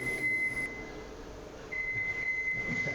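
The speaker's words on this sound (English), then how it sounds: "It's a bit annoying, that beeping noise, isn't it?" Electronic beeping from equipment at a distillery: a thin, high, steady tone that drops out for about a second and then resumes, over low machinery rumble.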